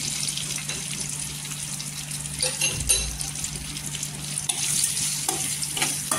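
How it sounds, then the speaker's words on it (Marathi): Green chillies sauté in hot oil in a pan, a continuous close sizzle with occasional stirring scrapes and a faint low hum underneath. "इथे मिरच्याला पण तेलावर छान असे परतून घ्यायची, एकजीव करून घ्यायचं एकत्र।"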